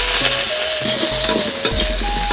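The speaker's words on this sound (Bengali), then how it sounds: "আমি মাছের ঝাল রান্না করার জন্য প্রথমে কড়াতে পেঁয়াজ দিয়ে দিচ্ছি আমি তেল দিয়ে দিচ্ছি" Onions and potatoes frying in oil in a kadai, a loud, close, continuous sizzle with occasional utensil scrapes and a faint steady hum underneath, no talking.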